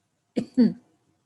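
A short double cough, close and clear, two quick bursts followed by silence.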